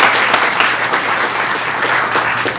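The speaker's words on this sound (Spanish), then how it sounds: "Un fuerte aplauso," A seminar audience at a money and business training event applauds, a dense, loud, sustained burst of clapping that continues without a break throughout.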